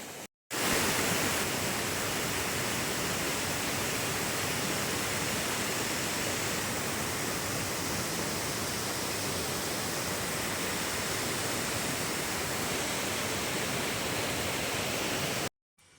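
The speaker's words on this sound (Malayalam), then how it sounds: "വെള്ളം ഒഴുകി പോണതും ആ വെള്ളത്തിൻ്റെ ഒഴുക്കിൻ്റെ ആ സൗണ്ടും" Continuous rushing roar of a river flowing over rocks, steady and full, with no voices and no breaks.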